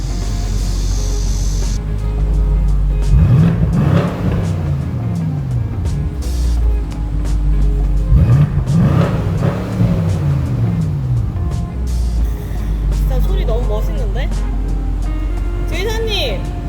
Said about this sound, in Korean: 배기음 소리도 진짜 죽여줍니다